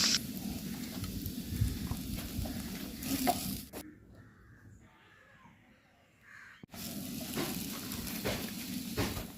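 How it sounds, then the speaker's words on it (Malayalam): Curry leaves hit hot oil in a pan while making kothu dosa, giving a close, steady crackling sizzle that breaks off into near silence midway, then returns just as strongly. "ഞാൻ ഈ ഒരു കറിവേപ്പില നന്നായിട്ടൊന്ന് കഴുകി ഇതിലേക്ക് ഇട്ട് കൊടുക്കുന്നുണ്ട്."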